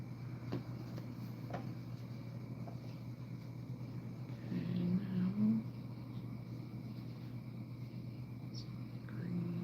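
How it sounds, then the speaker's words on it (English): Road traffic passes by outside a house, a low steady engine rumble under faint indoor sounds, with one vehicle swelling slightly louder midway. "sometimes it sounds like I live in town with some of the traffic that goes through here"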